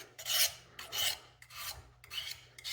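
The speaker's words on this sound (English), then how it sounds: "Just let the sharpener do the work." Knife blade drawn down through the coarse side of the built-in sharpener on a Gerber Ultimate, four close, bright rasping strokes in a steady rhythm with short pauses between them.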